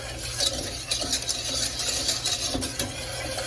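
A whisk stirs heavy cream into hot caramel in a pan, giving a steady scraping, sloshing rattle with quick metallic strokes against the pot, close and moderately loud with no talking.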